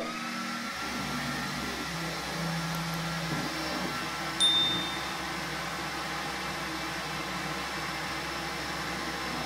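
An Xtool S1 laser cutter with its conveyor runs a cut, giving a steady, even whir and fan hiss at moderate level, broken by a brief click or beep near the middle.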